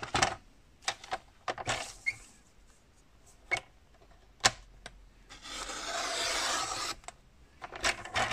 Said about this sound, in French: je la retourne et je viens couper tout ce qui dépasse